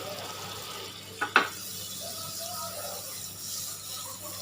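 A piece of butter melts in a small pan on a stove, giving a soft, faint sizzle throughout. A brief clatter of metal sounds near the start.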